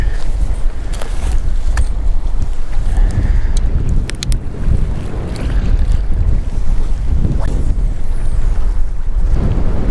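Strong wind buffets hard and without a break at a windy lakeside bass fishing spot, a loud and constant roar with heavy gusts beating against the microphone.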